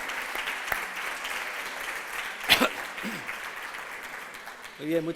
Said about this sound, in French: vos applaudissements me touchent